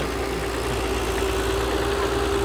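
A Komatsu PC120 series 5 excavator fitted with an oversized bucket runs at a steady idle, a constant low engine drone with a faint whine held throughout, with no talking.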